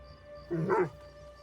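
A dog in the video game Assassin's Creed Shadows gives a short bark-like yip with a slight whimper over a steady game background hum.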